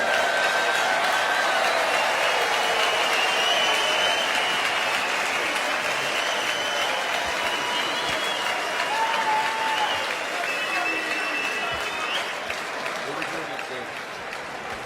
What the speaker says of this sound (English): a round of applause for Terry Jenkins and Adrian Lewis